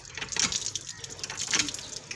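Water splashing and dripping as it is scooped in cupped hands for washing, a soft continuous wet trickle with brief splashes, fairly close and without talk.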